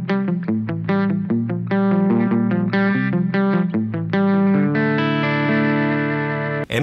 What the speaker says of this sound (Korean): X컴프레서의 소리를 한번 들어보겠습니다